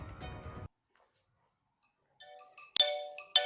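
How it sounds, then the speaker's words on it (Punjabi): A mobile phone rings with an incoming call, its bright electronic ringtone melody starting after a brief noise and a stretch of quiet, heard clearly and close in a home setting. "ਹੁਣ ਇਹਨਾਂ ਦਾ ਵੀ ਫੋਨ ਆ ਗਿਆ"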